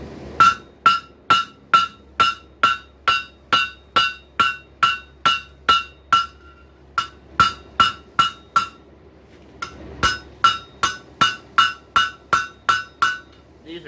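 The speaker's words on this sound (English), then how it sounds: "These are basically planishing blows" A hammer strikes hot steel from a wrench being shaped into a grilling fork. The ringing planishing blows are sharp and metallic, coming close and evenly paced at around two per second with a few short pauses.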